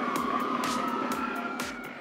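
An ambulance siren wails in a steady, rising and falling cycle through heavy Manhattan traffic in New York, moderately loud and continuous with no talk.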